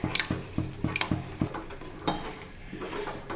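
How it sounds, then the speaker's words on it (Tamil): Neem flower vadagam batter being stirred continuously in a metal vessel, a series of quick rhythmic scraping clinks of the spoon against the pot, close and fairly loud, with no talking. "நல்லா கைவிடாமல் கலக்கி விடுங்க."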